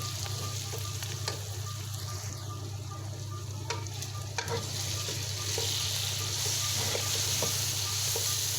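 Chopped green chillies and tomatoes frying in oil in a kadhai for chicken salan, a continuous close sizzle with occasional stirring clicks and scrapes.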